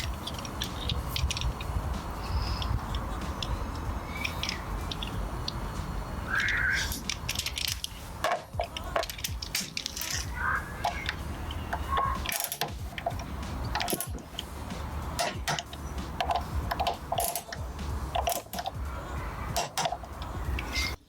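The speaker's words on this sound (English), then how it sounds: "now let's torque down the slider pins" A torque wrench ratchets and clicks while tightening brake caliper slider pins on a Honda CBR 600 F4i motorcycle, producing scattered sharp metallic clicks and light clatter at close range over a workshop background.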